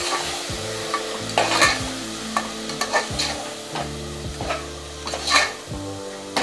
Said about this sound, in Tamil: ஆட் பண்ணி நல்லா கிளறி கொடுத்துக்கோங்க, அடி பிடிச்சிடக்கூடாது.